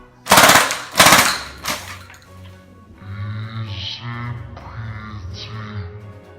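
A toy Halo assault rifle fires two loud, rapid electronic bursts up close, followed by quieter whirring and clicking mechanical effect sounds.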